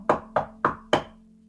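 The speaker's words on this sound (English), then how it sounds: "The knock is happening again." Four evenly spaced knocks on a solid surface, moderately close and clear, each with a short resonant tail over a faint steady hum.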